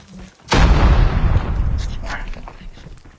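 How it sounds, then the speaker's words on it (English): A grenade explodes in a video game with a sudden loud deep boom that rumbles and slowly fades over about three seconds, while players talk in the background. "Grenade!"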